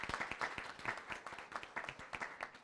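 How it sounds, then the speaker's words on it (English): Scattered, fairly faint applause from a conference audience at a blockchain summit honoring the event organizers, individual claps distinct and uneven, continuing steadily without voices. "can we get a round of applause for Allison, Olivia, Priyanka, and all of the others who have made this event happen?"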